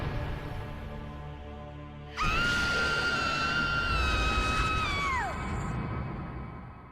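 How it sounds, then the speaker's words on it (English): Game characters let out a loud, dramatic scream right in someone's face, a sustained wailing cry that rises sharply, holds for a few seconds and then slides down before cutting off, with no talking. "We're just gonna scream in her face"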